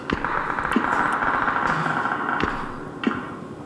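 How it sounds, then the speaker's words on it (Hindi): Gunfire rings out far off in PUBG on the Erangel map: a handful of faint, scattered cracks spread over a steady ambient game hum, with no nearby shots. "उधर गोलियाँ चल रही है दूर पे"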